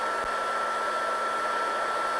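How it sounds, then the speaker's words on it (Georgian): A battery-powered hair dryer runs continuously at close range while heating heat-shrink tubing, producing a steady loud airy whoosh with a constant motor whine throughout and no talking. "მე ამ კემბრიკებს ფენით იმაშვებით."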